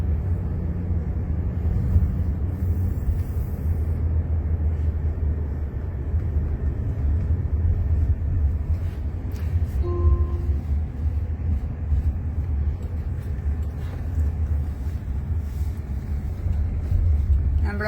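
A driverless electric car rolls along, giving a continuous low road-and-cabin rumble heard from inside, steady and fairly loud throughout, with a faint brief tonal chime midway and no clear talk.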